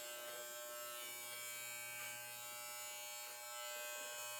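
Electric hair clippers buzz steadily at close range while cutting hair with a 1 1/2 inch guard, a continuous motor hum with slight shifts as they move through the hair.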